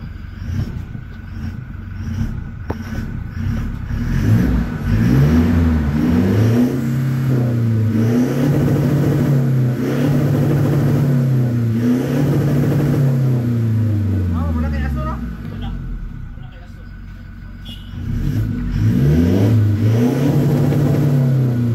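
A car fitted with a Bidot exhaust and BP remap revs repeatedly, its engine note swelling and dropping in waves, loud and near, with people talking over it in places.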